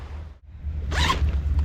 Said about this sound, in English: Obligatory zipper sound.